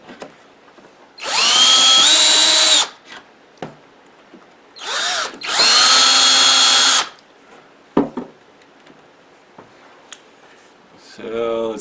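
A power drill boring a pilot hole for lag bolts in wood for a kitchen table build, with two loud sustained whines, each rising in pitch, separated by brief knocks and handling sounds.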